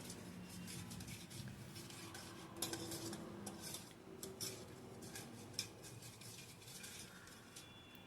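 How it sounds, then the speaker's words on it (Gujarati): Salt and turmeric are stirred into a red chili pickle mixture. A utensil clinks and scrapes softly and irregularly against the bowl, faint and close, with occasional sharper taps and no talking. "પછી તે બધું હલાવીને મિક્સ કરી દઈશું।"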